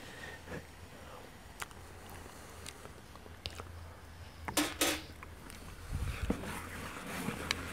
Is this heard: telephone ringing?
no